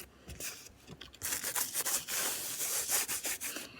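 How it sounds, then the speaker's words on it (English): Dried salt being scraped off the surface of a painted canvas in a mixed-media seascape, close rough rubbing strokes in short bursts that grow into a sustained scratchy scrape. "So you can just simply kind of scrape it off."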